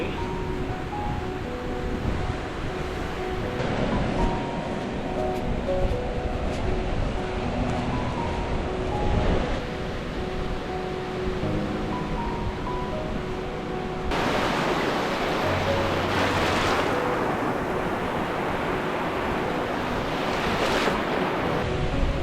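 Waves wash onto a beach, recorded on a GoPro Hero 10: a constant roar of surf with rumbling wind buffeting the microphone, swelling louder and rougher in the second half.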